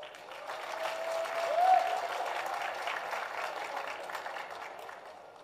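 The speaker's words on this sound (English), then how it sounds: "Let's give everyone a round of applause." An audience at a 9-ball pool championship final in the Philippines applauds throughout, a sustained, moderately distant clapping that swells slightly near the middle and then tapers off gently.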